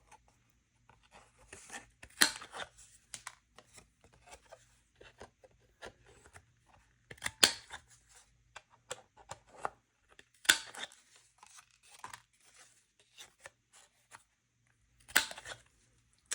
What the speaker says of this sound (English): I'm just going to trim the edges now with this edge trimmer